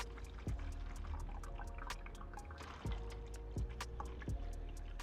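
Coolant draining into the reservoir of a Lexus GX 460, a quiet steady trickle with light dripping and faint clicks, heard close and alone.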